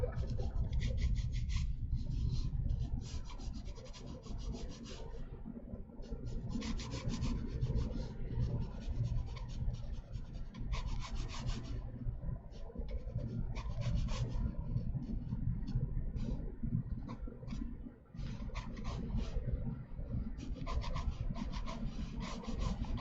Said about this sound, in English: Let me sharpen this stick up